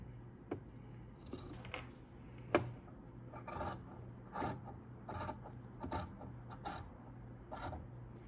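Scissors trim a fabric seam allowance down to 3/8 inch while sewing a garment, giving a quiet series of short, crisp snips and rustles in an otherwise still room.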